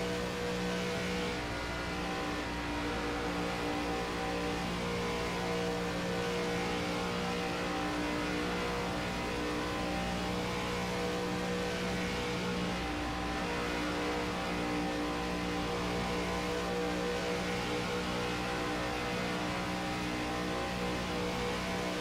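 A race car engine in the iRacing sim at roughly half throttle: a steady, continuous droning hum with layered tones, moderately loud and unbroken throughout.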